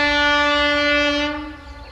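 Bānītis, the narrow-gauge railway train in the Baltics, sounds a loud sustained horn with strong steady harmonics, close by, fading over the final half second with rumble underneath.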